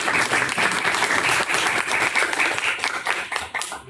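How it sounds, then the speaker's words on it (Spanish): An audience at a noise control applications talk claps in a steady, dense burst of applause for about four seconds before it thins out and stops, with no voices over it. "Damos un aplauso a..."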